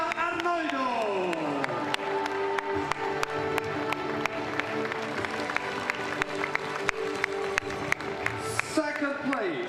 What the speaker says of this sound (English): we send her a big hand of applause from Italy